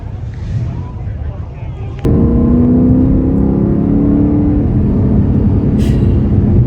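Street rod cars cruising on a poker run, a steady engine drone that jumps louder about two seconds in and holds a rumbling, close hum to the end, with no talk.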